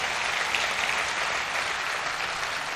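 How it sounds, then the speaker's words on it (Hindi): An audience at a Hindi poetry recital gives steady, energetic applause, a thick wash of clapping that stays fairly even and tapers only slightly at the close. "लेकिन आपकी तालियों में जोर होना चाहिए।"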